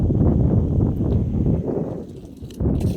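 Steady, loud wind buffeting the microphone outdoors in a garden orchard, with a low rumbling roar, fluctuating slightly in strength throughout.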